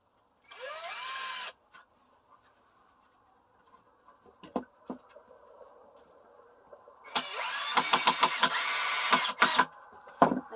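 A power drill drives longer screws into a wooden raised garden bed inside a greenhouse, with a short whirring burst, then taps and knocks, then a longer run with rising motor pitch, close and loud.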